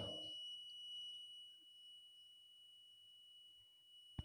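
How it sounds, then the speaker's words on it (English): A digital multimeter gives a continuity-test beep while its probes are connected across a wire: a steady, thin electronic tone held unbroken for several seconds at a faint level, with a soft click near the end. "You can hear a beep sound"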